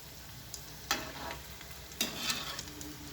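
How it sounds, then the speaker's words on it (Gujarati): Steady bubbling sizzle of potato-stuffed bread rolls deep frying in oil, with a couple of brief scraping stirs; no voices. "એને બરાબર ગુલાબી રંગના તળાવવા દઈશું"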